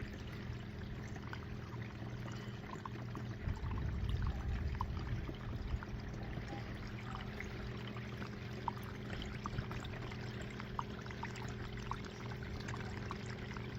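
Water pours steadily through a VDR gold cleanup sluice, a continuous moderate rushing flow that swells briefly before settling into an even stream, with no voices.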